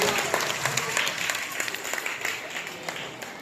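An audience claps at a school cluster-level talent event during a lamp-lighting, producing a dense, steady burst of applause from a gathered crowd with faint voices underneath.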